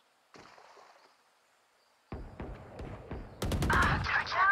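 Video game gunfire: a faint whine gives way to several sharp single shots, then a loud rapid burst of automatic fire near the end, with muffled voices in the background.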